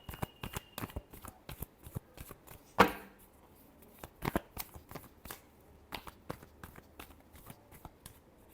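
Tarot cards being shuffled by hand in a series of quick papery riffles and slaps with uneven rhythm, close and fairly quiet, with one sharper snap partway through and no talking.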